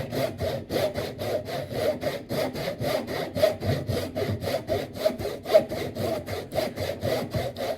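A hand saw cuts through wood for a half lap joint in rapid, even back-and-forth strokes, a close, rasping rhythm of about two to three strokes per second that continues steadily throughout.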